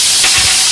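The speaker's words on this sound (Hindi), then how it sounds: "ये डाला हमने इसके अंदर चुटकी भर जीरा, जैसे जीरा चटका" A pinch of cumin seeds crackles in hot oil while cooking gawar ki phali, giving a brief, loud, continuous sizzling hiss.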